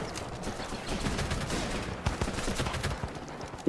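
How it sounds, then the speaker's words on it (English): A Stoner LMG light machine gun fires in the combat game Running With Rifles: rapid, rattling bursts of shots over a busy background of battlefield noise, fairly loud and continuous throughout. "Oh, the Stoner LMG."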